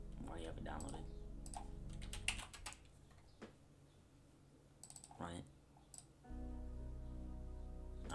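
Keyboard keys typed in quick irregular bursts of clicks, close and fairly quiet over a steady low hum, with pauses between runs, on a computer keyboard that is not an expensive one.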